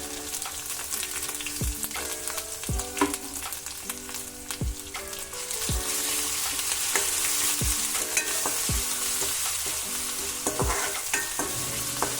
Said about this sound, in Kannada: ಇದೊಂದು ಚೂರು ಫ್ರೈ ಆಗಲಿ.